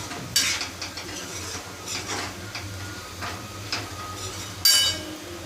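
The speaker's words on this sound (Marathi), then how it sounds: "शेवटी दाण्याचं कूट घालायचं आणि ढवळली की झाली आपली भाजी तयार" Vegetables for a fasting meal being stirred with crushed peanut powder in a kadhai (wok), heard as scraping strokes with light metallic clinks at close range, a sharper scrape near the end, and no talking.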